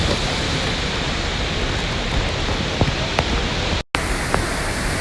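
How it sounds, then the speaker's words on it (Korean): A waterfall at a cave entrance in the Philippines makes a loud, unbroken roar of rushing water close by. A few faint clicks break through, and there is a short dropout near the end. "이제 저희가 저 안에 폭포를 뚫고 동굴 안으로 들어가 볼 거고"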